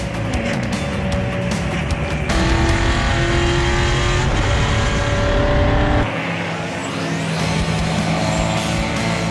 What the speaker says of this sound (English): we can actually drive this car